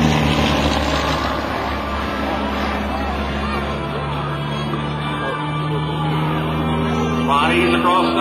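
An aerobatic propeller airplane flying loops at a 2007 airshow drones continuously in the distance, its engine pitch rising and falling as it maneuvers, while an announcer talks over a loudspeaker.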